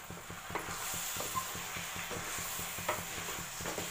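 A spoon scrapes and stirs drumstick masala in a hot pan, steady rhythmic stirring strokes over a constant sizzle, close and moderately loud with no talking.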